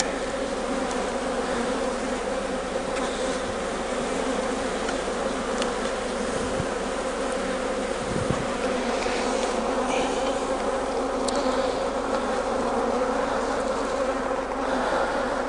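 Honey bees hum steadily around an open Langstroth hive during an inspection, a dense continuous buzz close by with no one speaking.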